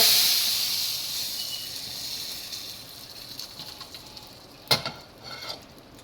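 Tadka for Punjabi dal tadka with red chilli, a steady hot-oil sizzle and hiss that fades slowly, broken by one sharp crackling burst near the end.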